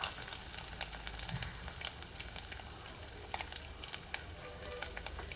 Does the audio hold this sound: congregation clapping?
no